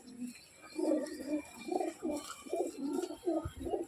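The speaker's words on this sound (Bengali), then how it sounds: "বন্ধ লেজে পায়রা আছে।" Domestic pigeons, including a male, coo in a soft, repeated rhythmic series of low throaty phrases, close by and with no talking.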